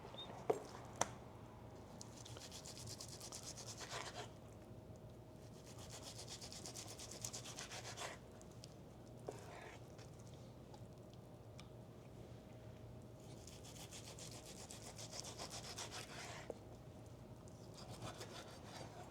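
A knife slices through medium-rare sous vide steak in repeated slow strokes, soft rasping sawing sounds about every four seconds, close but quiet, with no talk.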